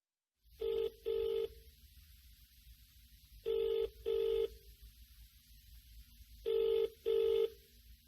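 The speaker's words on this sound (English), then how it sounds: "He is phoning her for directions." A telephone keypad sounds three pairs of clear dialing tones at even intervals over a faint, quiet background, with no voices.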